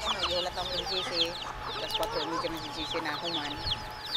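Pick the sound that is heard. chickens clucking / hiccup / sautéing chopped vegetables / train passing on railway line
chickens clucking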